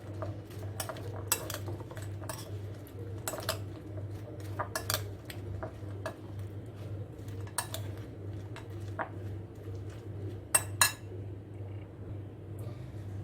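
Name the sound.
mixing potato chaat in a bowl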